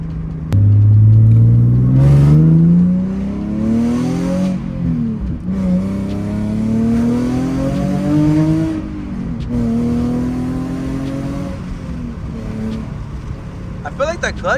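A Nissan 350Z pulls away loud and close, its engine climbing through revs with repeated gear-change dips and steady acceleration, the drone continuing throughout with brief sharper sounds near the end.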